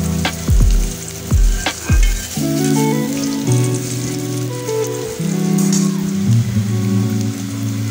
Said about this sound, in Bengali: একটু নেড়ে চেড়ে রাখতে হবে। হালকা একটু লালচে কালার আসা পর্যন্ত